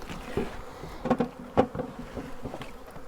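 Bees from a captured swarm buzz faintly around a hive box, with a few louder bursts as insects pass close and soft knocks from hive parts being handled.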